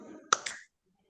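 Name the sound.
hand clap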